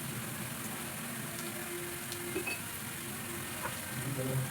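Spinach palya with salt and chilli powder is stirred in a pan, a steady close sizzle and frying hiss that runs throughout, with faint scraping of the stirring under it.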